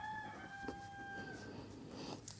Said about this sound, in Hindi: ये जो मुर्गा है आपको आवाज़ सुनाई दे रही ना,